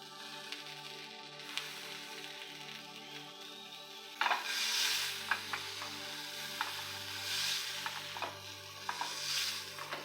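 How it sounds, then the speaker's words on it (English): Hot dogs brown in a frying pan, a quiet sizzle that swells after a few seconds, with occasional utensil taps and scrapes and a low hum in the background. "Just gonna brown these doggies right here in the pan."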